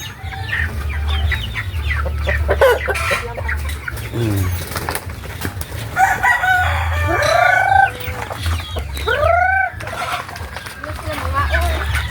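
Farmyard chickens clucking steadily with a rooster crowing, close and fairly loud over a constant low hum, while people talk throughout.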